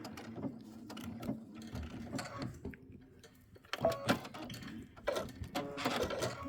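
A domestic sewing machine runs a short locking stitch through a quilted Christmas wall hanging, giving bursts of rapid mechanical chatter with brief pauses, close and moderately loud, no talking.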